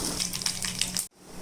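Mustard seeds hiss and crackle with scattered sharp pops in hot coconut oil in a pan for about a second, then the sound cuts off abruptly.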